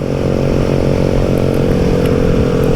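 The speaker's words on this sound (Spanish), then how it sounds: "Aquí las familias se mueven en la motocicleta." A motorcycle engine on a coastal Oaxaca road drones steadily close by, a loud continuous low buzz with no pauses and no voices.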